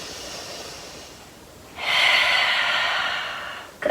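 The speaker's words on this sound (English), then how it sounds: "One more breath." Deep breathing during a yoga half moon pose at the wall: a soft, quiet exhale, then a louder, airy, sustained breath that rises sharply and holds for about two seconds, close up and alone.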